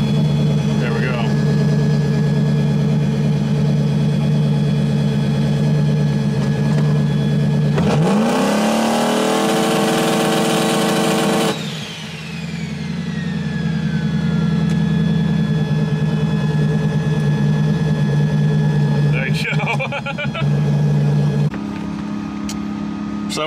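A 2000 HP Ford Coyote drag car engine on Holley with big boost, held on the two-step at about 5,500 rpm: a loud steady idle-like burble that snaps into a harsh, crackling limiter roar for several seconds, then settles back to a rough lope.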